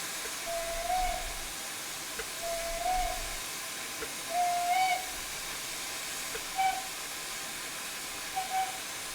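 Short steam whistles from an FR Class A5 locomotive in a train simulation game sound as about five brief, faint toots spaced a couple of seconds apart over a low background hiss.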